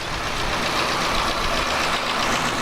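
A Farmall tractor engine, model 1468, rumbles steadily at a fall festival parade, a dense, continuous roar held close and loud, with no break.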